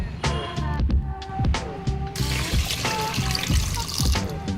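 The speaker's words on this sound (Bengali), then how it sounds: "এবারে পরিমাণ মতো জল দিয়ে নেব" Water poured into a rice cooker pot over rice, a close splashing trickle with a faucet-like gush and clinking of the pot, running steadily with a brighter splashing burst partway through.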